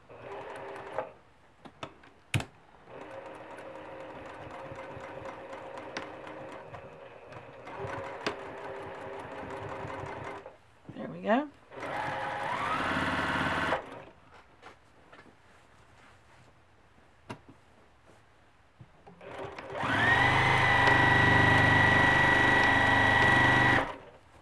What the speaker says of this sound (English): So start very slow on your machine, and then do the same back and forth stitch that you did on the towel part.